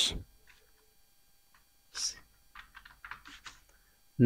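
Sparse computer keyboard typing during a computer training class, a few quiet isolated clicks and then a short quick cluster of keystrokes near the microphone, with brief speech around them.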